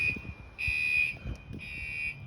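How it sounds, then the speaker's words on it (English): A fire alarm being tested in a former church building sounds as high, piercing electronic tones pulsing on and off, heard from some distance over low rumbling background noise. "They're testing the fire alarms at the church."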